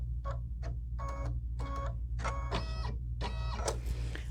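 An embroidery machine stitches a pineapple placement line, a series of close mechanical whirring bursts with rhythmic stitching pulses over a steady low hum, running continuously without speech.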